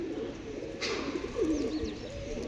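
A single female Teddy pigeon gives a low, warbling coo close by, rising briefly in the middle of a short stretch of quiet background hum.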